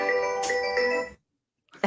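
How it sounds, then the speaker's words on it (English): A phone ringtone sounds for about a second as an incoming call arrives, a bright repeating melodic tone, fairly clear and alone, then stops before a short burst of noise. "getting a phone call"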